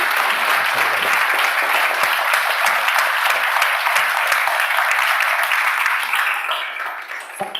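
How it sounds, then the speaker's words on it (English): An audience at a public health talk gives a long, loud round of applause, a dense, even roar of clapping that holds steady before beginning to thin out near the end. "a round of applause for Kevin"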